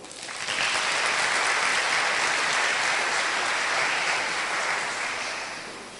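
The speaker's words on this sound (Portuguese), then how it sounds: "Por favor, dê um aplauso ao Senhor." A church congregation at an evangelical community service in the Amazon breaks into sustained, dense applause that swells quickly, holds steady for several seconds, then tapers slightly, with no talk over it.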